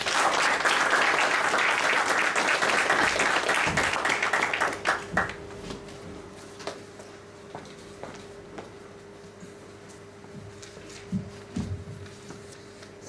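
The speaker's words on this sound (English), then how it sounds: "Youth leader Hazem Sami with a thunderous round of applause." Audience at a Toastmasters ice breaker speech meeting applauding a youth leader's introduction, a dense full round of clapping that thins after about five seconds into scattered claps, shuffling and a faint hum.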